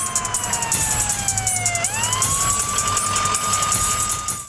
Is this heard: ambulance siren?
yes